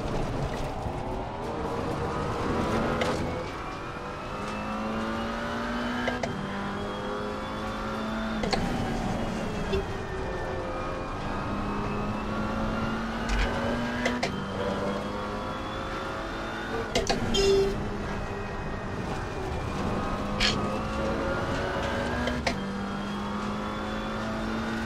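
GT3 race cars lap Monza in the Assetto Corsa Competizione video game. A loud engine repeatedly revs up, with sharp upshifts at a steady rhythm, and other cars drone nearby.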